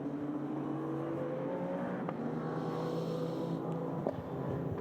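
A prototype race car drones past during Prototype Cup Europe qualifying at the Nürburgring, its engine a steady, moderately distant hum that holds through the moment with no voices.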